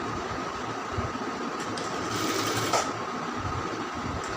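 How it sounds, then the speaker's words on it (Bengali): Sewing machine top-stitching along the edge of a round kameez neckline, a steady, fast mechanical whirr running without pause and fairly close. "একবারে সাইড দিয়ে চাপ সেলাইটা দেবেন"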